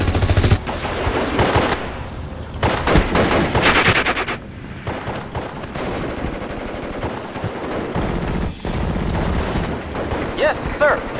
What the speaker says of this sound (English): Machine gun working on.